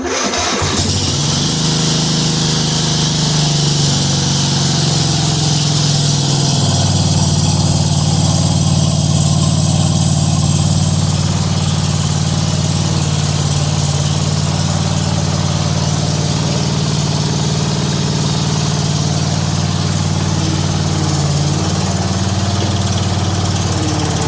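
A small engine cranks and catches on choke on a cold day, then settles into a loud, steady running drone up close that wavers slightly in pitch throughout.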